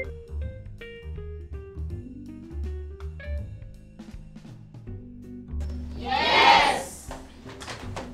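A goat bleats once, a loud wavering cry rising near the end, heard over steady music with no speech.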